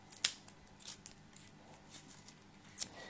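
Scissors snipping ribbon for a handmade Christmas menu card, a couple of quiet, sharp close-up snips with faint rustling in between, no talk.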